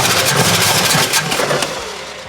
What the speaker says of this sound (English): We're gonna fire it up, see if it'll run on brake clean long enough to pick up fuel from the tank